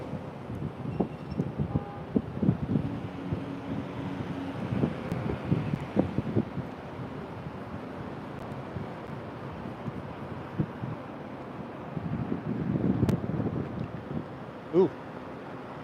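Wind blowing outdoors in a city, buffeting the microphone in irregular gusts with a low rumbling roar that swells and fades, strongest early and again near the end.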